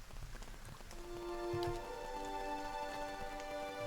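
Rain patters softly in the game Pillars of Eternity, a faint steady hiss of drops under sustained tonal game music, with a few brief low thuds early on.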